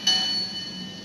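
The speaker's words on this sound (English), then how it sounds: "The bell's working." An HO scale model of a 2-6-0 steam locomotive sounds its bell: one bright metallic ring that fades away, heard alone and fairly soft.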